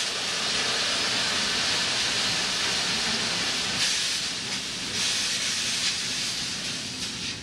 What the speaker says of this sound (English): getting that extra burst of steam and getting that clean down in there